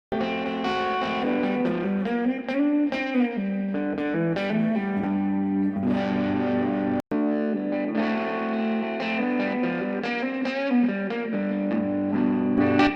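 A distorted electric guitar, miked at the speaker cone beside the dust cap, plays chords and riffs with a thick, saturated tone, loud and continuous, cut by one brief dropout midway.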